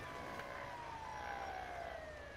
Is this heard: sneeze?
no